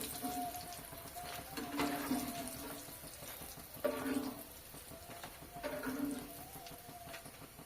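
Mini khaja pastries frying in hot oil: a steady, fairly quiet sizzle and bubbling throughout, with soft swells as pieces shift, no talk.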